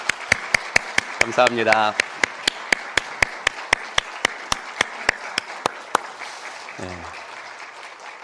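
Congregation claps in a steady, even rhythm at a Sunday joint worship service in a Korean church, crisp beats repeating several times a second, with someone speaking briefly over the clapping near the start and end.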